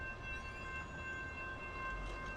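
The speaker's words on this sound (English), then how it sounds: "that was one of those 80-mile-an-hour trains" A fast commuter train rushes past near Route 66 in Illinois, a steady loud roar of rolling wheels with a sustained horn-like tonal ring running through it.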